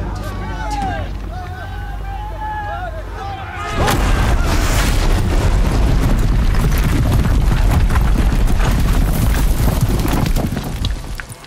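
Heavy mounted guns firing during a battle in Horizon Zero Dawn, a loud, continuous barrage of booms and crackling blasts that erupts partway through after calmer game sound and voices.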